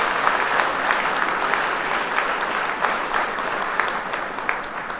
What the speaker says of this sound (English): So a round of applause for our board.